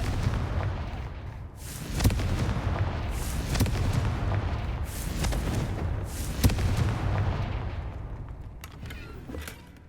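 Repeated blasts from a Confringo fire spell in a Harry Potter wizarding video game, several booming impacts with crackling tails rolling over a dense, noisy background, loud and close.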